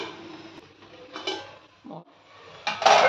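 A lid set onto a cooking pot of leafy greens and tomato curry, soft metal clinks and a handled scrape ending in a brighter clatter as it settles, close and with no talking.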